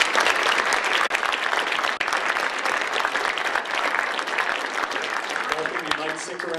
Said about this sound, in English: Please join me with another round of applause.